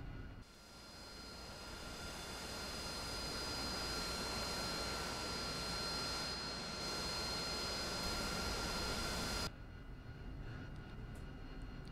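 An AV-8B Harrier jet engine in the DCS flight simulator runs at a steady, even roar with a high whine for about nine seconds, then cuts to a quieter rumble.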